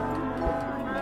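A single low, drawn-out cow moo from Minecraft fills the moment, close and fairly loud with a rich droning tone.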